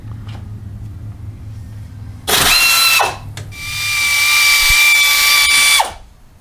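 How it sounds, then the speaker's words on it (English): A power tool removes 15 mm brake caliper bolts during a CV axle job on a 1997 Pontiac Grand Prix, with two loud, close whirring bursts, the second longer and rising in pitch, separated by brief quieter shop noise. "I'm going to take the brake caliper off, and the size is a 15."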